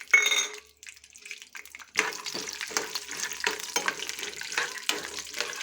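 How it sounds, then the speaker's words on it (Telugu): Peanuts fry in hot oil with dried red chillies, urad dal and cumin for tamarind pulihora, a soft crackling sizzle broken by irregular scrapes of a stirring spoon against the pan, close and quiet, no talking. "కొంచెం ఎండుమిర్చి వేసినాక పల్లీలు వేసుకోవాలి."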